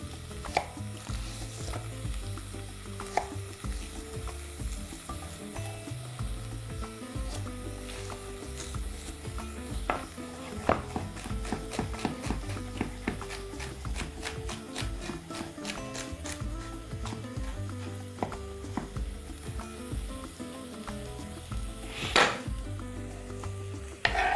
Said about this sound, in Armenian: Տապակվող սոխին կավելացնեմ նեխուրի ցողուն, մեկ ցողուն, բոլոր բաղադրիչները կտրում ենք մանր։